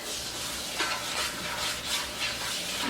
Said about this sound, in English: Now I'm going to go ahead and stir in our sugars and our salt.